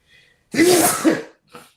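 A single loud, close sneeze bursts out after a faint breath, followed by a brief soft exhale.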